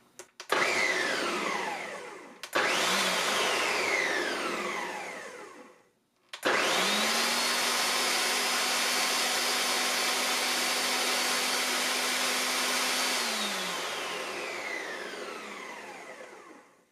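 A Ninja Foodi Power Blender pulsing tomatoes into puree: a brief whir, a second short burst, then a long steady motor roar lasting about ten seconds that winds down at the end, loud and close with no talk.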